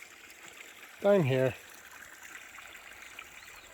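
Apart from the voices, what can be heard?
little waterfall dripping in Sequoia National Park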